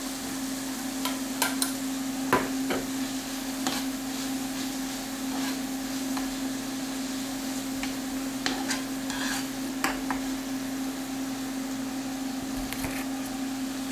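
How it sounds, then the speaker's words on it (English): Green peppers sizzle quietly in a pan with tomatoes, under a steady low frying hiss and a constant hum. A utensil gives occasional soft scrapes and clicks while they are stirred. "now I'm going to add my green peppers."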